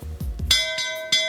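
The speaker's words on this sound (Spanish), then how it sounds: "Suena la campana." A school bell rings in a few sharp metallic strikes, each leaving a sustained ringing tone that decays between hits.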